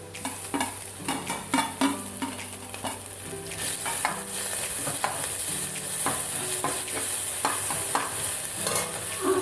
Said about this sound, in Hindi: सबसे पहले लहसुन डलेगा। हम डाल देते हैं अपना अदरक जो हमने कोर के रख दिया था।